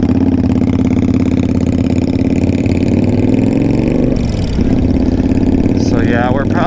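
A Boulevard motorcycle with over 14,000 km idles steadily with a low, even engine rumble, loud and close throughout, with a brief dip near the end.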